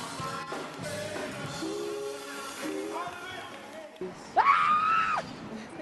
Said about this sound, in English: Screams of joy and victory echo through Imperial Courts.